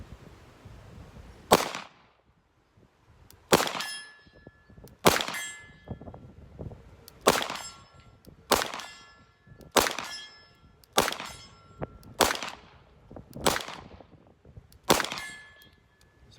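Beretta APX pistol fired at steel A-zone/C-zone targets 50 away, nine evenly spaced sharp shots, each followed by a bright metallic ring that decays before the next.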